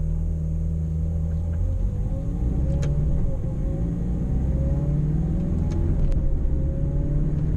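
A Ferrari 430 Scuderia engine rumbles steadily as the car drives along a city road, a deep continuous drone with slight rises in pitch, close and loud.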